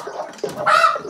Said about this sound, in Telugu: మా వద్ద కడక్నాథ్ కోళ్ళు మరియు నాటుకోళ్ళు,